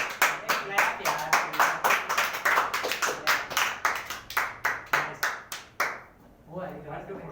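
A classroom claps for a competition winner, with a run of quick, distinct hand claps close by that thin out near the end, and a brief spoken word at the end.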